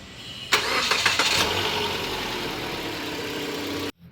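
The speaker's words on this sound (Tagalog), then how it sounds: "i-start ko yung makina" A Mitsubishi Xpander car engine is cranked and catches with a sharp burst, revs briefly, then settles into a steady, even idle at close range before cutting off abruptly.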